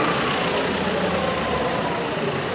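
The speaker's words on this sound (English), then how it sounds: "Sorry about the noise, that was a tractor." A heavy tractor engine rumbles steadily and loudly nearby in a village street in Castleton, a low diesel drone as it idles or chugs past.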